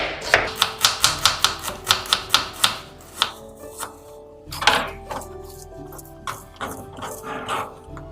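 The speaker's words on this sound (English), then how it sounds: "Peel the onions and take out fine slices out of it like this." Knife finely slicing peeled onions on a board, a fast even run of crisp chopping taps that slows and thins into scattered strokes, with light clinks and background murmur.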